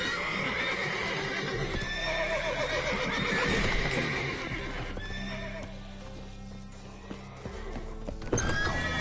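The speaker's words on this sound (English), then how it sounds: "Call all the horses before they wake the guards." Several horses in The Witcher 3 whinny and neigh loudly and repeatedly with hoof clip-clops throughout, nearby and continuous across the scene, with no talking.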